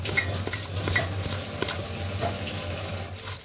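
Chopped brinjal and neem leaves are tossed with salt and turmeric, giving close, soft squelching and rustling mixing sounds in short bursts over a low background hum, with nobody speaking.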